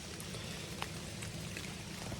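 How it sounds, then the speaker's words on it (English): Rain drips off the leaves in a wet woodland, a steady soft patter with scattered louder drops, faint and continuous with no voices. "That's pretty much just rain falling off the leaves"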